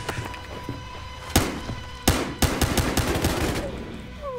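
Gunfire in the video game Battlefield Hardline: several sharp shots crack out, with a few loud single reports followed by a rapid burst of fire, close and loud over a steady background of game noise.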